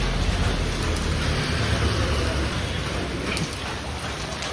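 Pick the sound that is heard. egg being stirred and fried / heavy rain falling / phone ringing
heavy rain falling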